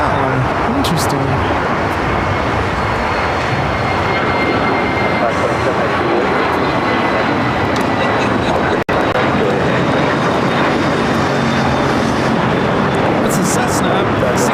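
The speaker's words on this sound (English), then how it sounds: "That's a Cessna 688. Citation latitude." A Cessna Citation Latitude business jet at LAX gives a loud, steady, broadband jet roar that holds for the whole stretch, with only a brief drop near the end.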